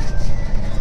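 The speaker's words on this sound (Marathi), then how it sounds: "ट्रेन मध्ये मस्त ट्रेन आपली" A moving passenger train rumbles steadily, with a dense, loud low roar of wheels and carriage from inside the coach and no voices heard.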